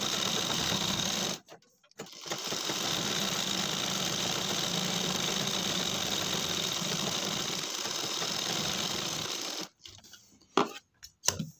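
A sewing machine stitches cloth for homemade slippers, humming in a steady close whir for most of the time, stopping briefly near the start and ending in a few short starts and clicks.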